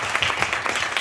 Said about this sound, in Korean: 반갑다고 박수로 환영하겠습니다